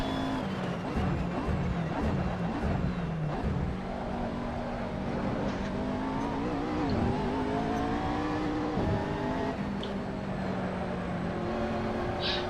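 McLaren MP4 race car in the Assetto Corsa racing game at the Nurburgring, with a continuous loud engine rising and falling through gear changes and revs, other cars audible around it.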